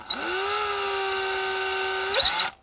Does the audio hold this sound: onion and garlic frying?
no